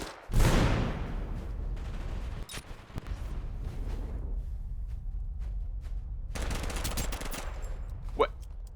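Rapid gunfire bursts from a shooter in the video game Totally Accurate Battlegrounds, a loud initial volley followed by continuous crackling shots and a later flurry, steady and close throughout.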